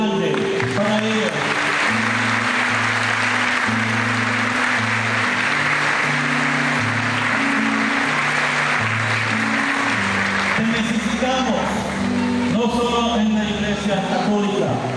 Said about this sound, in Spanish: por favor, un aplauso grande para ellos